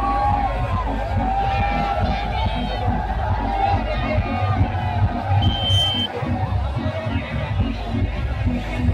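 Dense crowd noise at a Shagun DJ sound setup during the Maa Shakumbhari Devi yatra, with steady loud babble, bass-heavy music and scattered shouts filling the whole stretch.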